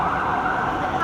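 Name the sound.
police car sirens passing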